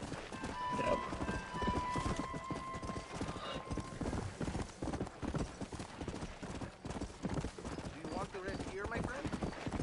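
Horse hooves clip-clop steadily and briskly throughout, with a whinny early on, all over a dense, busy soundscape from the video game Red Dead Redemption.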